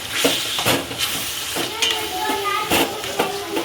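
Sauces and vegetables stir-frying in hot oil tempering for vegetable manchurian, with close, bright sizzling and a few sharp scraping stir strokes repeating every half second or so.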